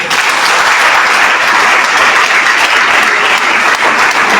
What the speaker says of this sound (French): Applaudissez beaucoup bien.